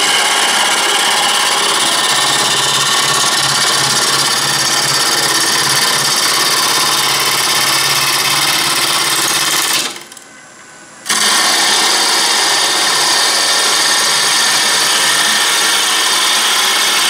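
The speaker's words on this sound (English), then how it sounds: "I'm going to turn that flat spot off." A wood lathe spins a roughed-out bowl while the gouge turns off a flat spot, a loud continuous whirring hum with scraping texture, briefly cutting out near the middle before resuming.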